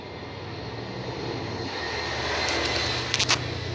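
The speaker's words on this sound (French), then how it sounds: "si j'entends les bruits des tracteurs dehors" Distant farm tractors running outdoors, heard as a steady low engine drone that grows slightly, with a few brief bright clicks near the end.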